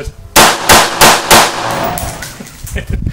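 M16 rifle fire: four loud, close shots in quick, even succession, followed by ringing echo and rustling.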